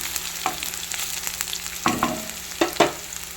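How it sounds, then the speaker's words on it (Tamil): Onions fry in a hot pan with a steady close sizzle, while a spoon stirs them in a few sharp scraping strokes, two of them close together near the end. "வெங்காயம் பார்த்திங்கன்னா இந்த மாதிரி நிறமாக வறுக்கணும்"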